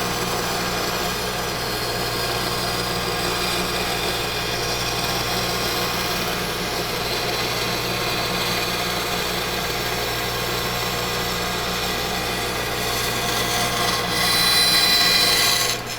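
Steady mechanical whine of a bandsaw running continuously as it cuts through wood for a Christmas angel craft, a constant droning buzz that swells slightly near the end.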